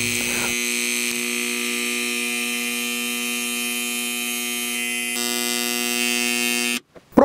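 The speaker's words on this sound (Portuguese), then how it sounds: "ele acionou a cigarra por 1 minuto, se comportando então como um alarme caseiro de baixo custo" A homemade low-cost motion alarm sounds its electronic buzzer continuously, a loud, steady, harsh tone holding for several seconds before cutting off abruptly near the end, followed by a brief burst of handling noise.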